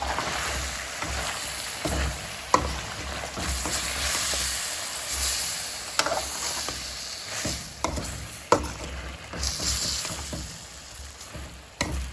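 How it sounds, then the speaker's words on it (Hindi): Tomato masala for karahi gosht cooking in a pan over low heat, a steady soft sizzle and bubbling with occasional louder clicks and scrapes, no voices. "इसको हल्की आंच पर 5 मिनट तक पकाएंगे ताकि टमाटर गल जाए"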